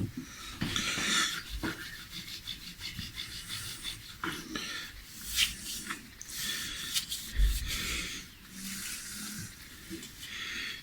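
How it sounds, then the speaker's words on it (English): Clean cotton rag wiping excess finish off a reshaped, refinished Fender-style guitar neck, giving soft continuous rubbing and swishing strokes close up, with no talking. "I'll wipe up the excess with a clean cotton rag. In fact, I'll do that now."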